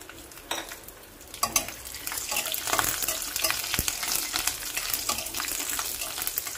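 Dried red chillies, black cumin and garlic cloves fry in hot oil with a steady dense sizzle and crackle, punctuated by occasional stirring scrapes, close up and continuous with no voices.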